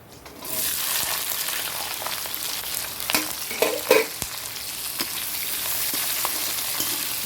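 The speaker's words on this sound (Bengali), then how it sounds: "এটা ভাজা হয়ে গেল এবার এর মধ্যে পেঁয়াজগুলো দিয়ে দিচ্ছি" Onions sizzle and fry in hot oil in a pan for a biryani potato dish, with steady crackling throughout and a few louder scraping stirs of a spatula partway through.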